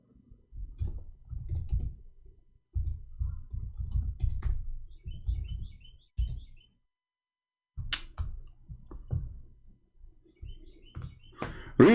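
Typing on a computer keyboard, close and fairly loud, in bursts of rapid clicking keystrokes broken by short pauses, with no speech.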